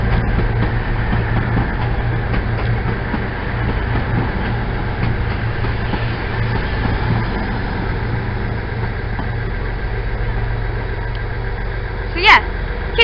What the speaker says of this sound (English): It's the delayed 1812 cross-country service to Paignton.